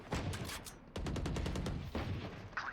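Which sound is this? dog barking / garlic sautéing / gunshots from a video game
gunshots from a video game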